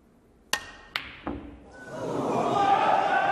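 During a snooker final, the cue strikes the ball on a tough long red into the right corner pocket: three sharp clicks in quick succession, followed by a swelling crowd reaction at moderate distance.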